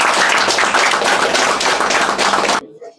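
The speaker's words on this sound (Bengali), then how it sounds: "হাততালি।" Applause for an award at a phone shop event: dense, loud, steady clapping from a gathered crowd that cuts off abruptly.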